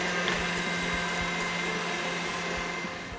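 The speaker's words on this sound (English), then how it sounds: "I gently add the sugar. And then I continue whisking until they really come up to firm peaks" Electric whisk whipping egg whites with sugar toward firm peaks, a steady close whirring motor hum that runs continuously for the whole stretch with faint rhythmic ticking from the beaters against the bowl.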